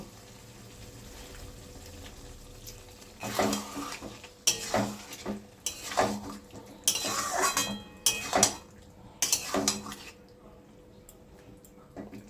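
Cauliflower posto being stirred in a pan with a utensil, a run of scraping, clinking strokes against the metal that come in separate bursts, fairly close and moderately loud, with no talk.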